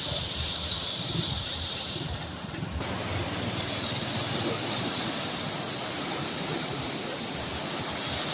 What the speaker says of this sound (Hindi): ये पानी बहुत ही तेज आ रहा है इधर से।